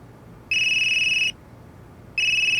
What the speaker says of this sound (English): That geezer's phone is ringing.